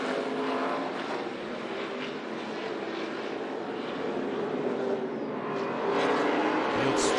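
ARCA stock race cars race at Sonoma, their engines roaring as the field streams up a hill. The sound is a broad, continuous, moderately distant rush that swells near the end.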